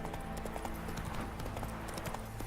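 Roach the horse trots in The Witcher game, with a steady rhythm of clip-clopping hooves at moderate volume over quiet game ambience.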